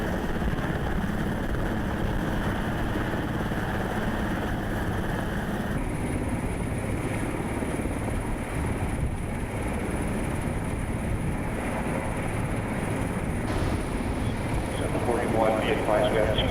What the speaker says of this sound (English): You've just witnessed an LA Sheriff's Aero Bureau Super Puma helicopter deploy an 8-man LAPD SWAT fast roping team to the top of the overpass